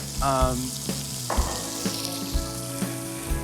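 Fish frying in a pan in a busy competition kitchen, a steady loud sizzle under brief voices and clattering, with occasional clinks of utensils.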